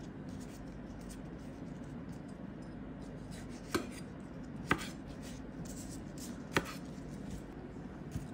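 A knife chops vegetables on a cutting board for a sandwich filling, landing three sharp, separate cuts over a soft scraping background with no talking.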